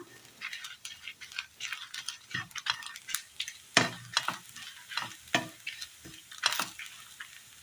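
Dried red chillies fry with grated coconut in a pan for a Kerala curry, giving a soft crackling sizzle broken by sharp scrapes and clinks of a spoon stirring against the metal, close and with no talk.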